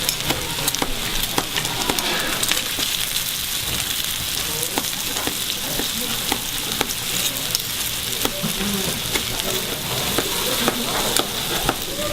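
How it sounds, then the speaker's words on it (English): Pork belly sizzles and fries on a hot stone, giving a steady dense crackle with frequent sharp pops throughout, loud and close. "And the juices and the oils and the aroma and the steam that's coming off of this pork is incredible."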